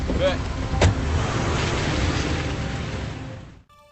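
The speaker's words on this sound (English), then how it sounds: "finally driving off in a checker cab" A Checker cab car pulls away, with a steady engine and road rumble holding throughout, a brief sharp knock near the start, and the sound dropping off abruptly at the end.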